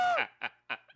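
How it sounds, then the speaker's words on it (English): A rooster kept as a pet in a non-farm home crows nearby, a few loud harmonic calls broken into short bursts with brief gaps. "Oh, you got a rooster."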